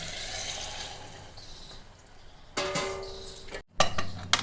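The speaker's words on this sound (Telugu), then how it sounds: "ఇప్పుడు మనం వాటర్ పోసుకోవాలి" Water is poured into a pot of mutton curry, starting as a soft background wash and turning into a louder splashing gush in the second half, broken by a brief pause.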